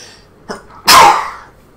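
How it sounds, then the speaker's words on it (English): A single sharp sneeze bursts out after a brief inhale-like catch, loud and close, then fades into quiet. "It's like we're getting a sneeze per video at the moment."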